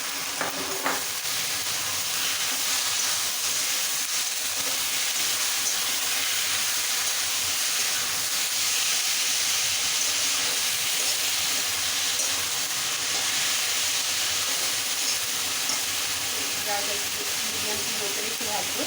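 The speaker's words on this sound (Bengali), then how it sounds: "মিডিয়াম মতো রেখে ভাজবো।" Teasel gourd fries in oil over medium heat for a Bengali shrimp chorchori, giving a steady close sizzle and hiss throughout with occasional stirring, and a voice talks faintly at times.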